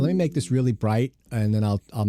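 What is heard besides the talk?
None of the usual background noises is heard.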